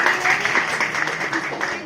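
Audience applause at a school adolescent health day celebration, a steady dense patter of many hands clapping throughout, fairly loud and continuous with no clear break.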